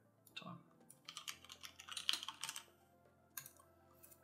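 Someone types on a computer keyboard in quick, irregular bursts of close, crisp key clicks separated by brief pauses, without speech.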